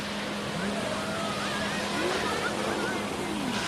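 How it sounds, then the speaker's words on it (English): A boat towing people across the water hums faintly beneath a constant wash of waves and wind, the engine tone low and steady throughout. "Here's a boat that was pulling them."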